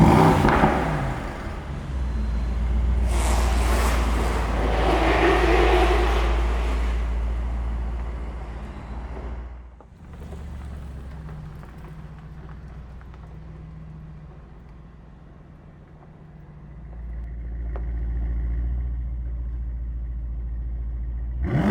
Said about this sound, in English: Now I want you to hear the V8 as we roll out